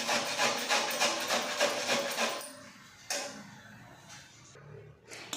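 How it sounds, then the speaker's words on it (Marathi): Peeled beetroot is rubbed over a small kitchen grater in quick, steady rasping strokes that continue for a couple of seconds before slowing into a few scattered scrapes, close and fairly quiet with no talk. "आता आपण याला किसून घेणार आहोत। म्हणजे छोट्या किसणीने बारीक किसून घेणार आहोत।"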